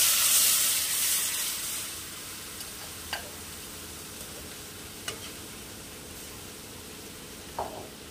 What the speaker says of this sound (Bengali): এর মধ্যে আমি দিয়ে দেব যে আমি ঘোলটা বানিয়ে রেখেছিলাম, সেই ঘোলটা